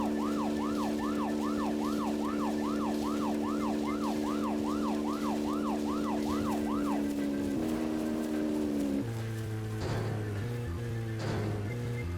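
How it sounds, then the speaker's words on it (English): Police car sirens wail in the Deadly Premonition video game, a steady rising-and-falling electronic siren over a droning car engine for about seven seconds, then cutting off while the engine hum continues and shifts lower. "I didn't want the sirens to drown out what we were saying."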